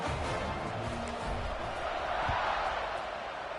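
A football stadium crowd cheering, heard as a steady, broad roar of many voices filling the space, with a commentator's voice faintly present beneath it.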